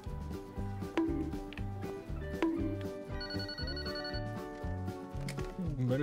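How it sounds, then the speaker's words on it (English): A telephone rings in the video game Yakuza Kiwami, repeated ring bursts sounding at a steady rhythm over game music and background tones throughout. "Menacing phone call time."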